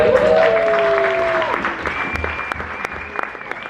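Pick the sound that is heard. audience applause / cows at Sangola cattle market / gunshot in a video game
audience applause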